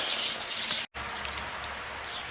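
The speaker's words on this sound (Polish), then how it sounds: "z tej siatki na górze śnieg się topi, kapie. Także tak jakby w zasadzie padał deszcz." Melting snow dripping steadily from overhead netting above a winter duck enclosure, making a dense rain-like patter that runs throughout with one brief gap.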